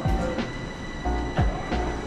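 Metro train riding through a subway tunnel, with a steady low rumble and rhythmic clunks of wheels over rail joints, close and continuous for a couple of seconds.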